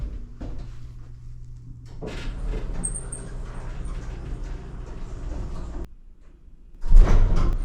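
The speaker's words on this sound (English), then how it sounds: "Why is the elevator got to slam on each floor like that?" An elevator's doors bang shut with heavy clunks during a delivery run, a sustained rumbling stretch of travel between loud thuds, ending in a sharp slam.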